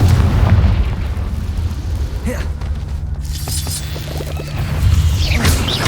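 Confringo blasting-spell explosions in Hogwarts Legacy hit as loud booms and crashes with shattering debris. Rumbling blasts come in a close sequence.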